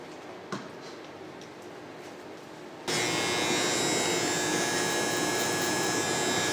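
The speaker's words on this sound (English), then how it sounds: "So what I'm doing right now with the Master Andis is that I'm establishing my line." Andis Master clippers buzz close by as a barber sets a hairline during a taper haircut with 360 waves; a few quiet seconds with a faint tap pass before the motor switches on into a loud, steady hum.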